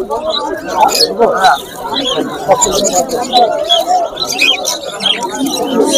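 Chirpy, squawking lutino cockatiel calls mixed with chattering at a pet bird market, heard under a person talking close by.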